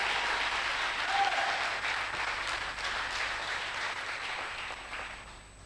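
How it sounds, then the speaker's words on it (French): A church congregation applauds the Lord during a sermon, a steady, moderately distant wash of clapping that holds for several seconds and slowly tapers, with no voice over it. "Quelqu'un acclame encore le Seigneur."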